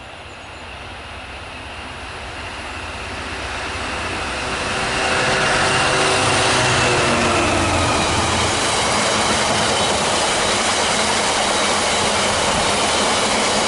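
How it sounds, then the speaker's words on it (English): A freight train on the line at Melton Mowbray approaches and passes close by, its roar building over several seconds into a loud, sustained rumble of wagons with wheel clatter and faint squeal. "the first train I caught, which was 6 Delta 49"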